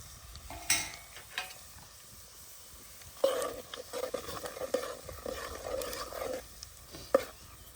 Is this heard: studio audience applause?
no